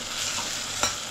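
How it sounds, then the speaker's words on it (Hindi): Tadka spices sizzle steadily in hot oil while being stirred during a room party cooking session in the Gulf, with one brief louder scrape of the spoon partway through. "ये अभी तड़का लगा रहा हूँ."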